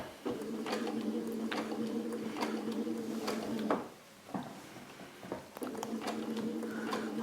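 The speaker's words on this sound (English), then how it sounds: "And then you begin your stitching." A sewing machine fitted with a quilt binding foot stitches binding onto a quilted placemat, giving a steady mechanical whir in two runs separated by a short pause with a few faint clicks.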